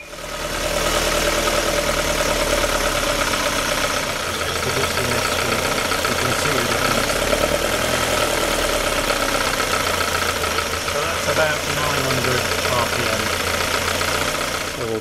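A Lotus Elan engine runs steadily at tick over, a continuous mid-pitched idle with a faint knocking rhythm, loud and close throughout, with speech heard briefly over it.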